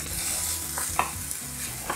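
Peppers and onions cooking in a pan, a close continuous sizzle with a few sharp scraping stirs, brief and with no talk.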